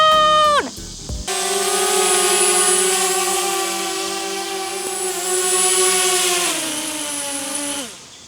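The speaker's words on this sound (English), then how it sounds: "It's a brand new drone!" A DJI Spark drone's propellers whine steadily at close range, the pitch rising sharply at spin-up, holding loud and even for several seconds, then dropping away at the end.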